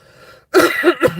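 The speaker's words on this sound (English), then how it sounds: "See, I'm coughing." A single harsh cough bursts out close up after a brief quiet moment, followed by a second rough hack.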